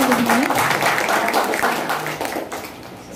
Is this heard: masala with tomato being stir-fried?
no